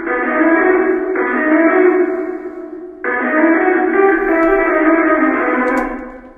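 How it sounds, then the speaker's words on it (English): A dark concert-hall reverb from Space Designer, heard as the fully wet signal only: a washed-out, distant instrument with a smeared, diffuse tail, playing in two sustained phrases and then fading away. "So all we'll be getting is the wet reverb signal."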